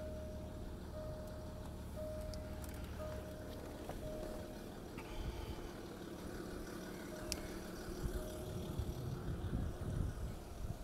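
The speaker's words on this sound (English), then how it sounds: "It does make that bleeping sound when the doors are open" Car with a 2.7 turbo diesel engine beeping with its doors open, a faint steady tone pulsing in regular evenly spaced beeps over low background rumble and some handling noise.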